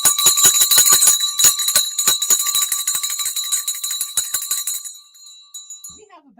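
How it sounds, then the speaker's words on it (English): A stock market closing bell rings in rapid repeated strikes, bright and loud, keeping up for several seconds before stopping abruptly and leaving near silence. "We have a bell. We have a market closed."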